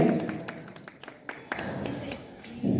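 Scattered audience clapping at a memorial gathering in Viramgam, with irregular individual claps and short bursts and a fuller burst of applause at the end.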